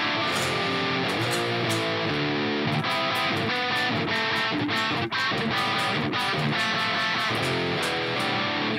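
Electric guitar through a Line 6 Archetype Lead dirty preset into an XXLV30 amp with a 4x12 cab, played as a dense, continuous distorted passage that stays loud and steady throughout, with no talking.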